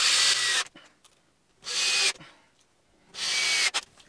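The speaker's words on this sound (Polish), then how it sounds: "I teraz trzeba to skręcić wszystko wkrętami." A power drill drives 4x16 screws into a drawer in three loud, whirring bursts of about half a second each, with short pauses and small clicks between them.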